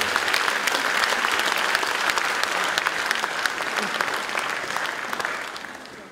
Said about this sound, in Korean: 자, 박수 한번 부탁드리겠습니다.